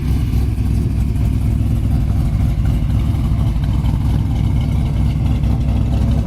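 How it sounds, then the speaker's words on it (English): A 1971 Chevelle Heavy Chevy's V8 exhaust rumbles deep and throaty at a steady idle, close and loud, with a low continuous burble and no voices. "The exhaust sounds excellent."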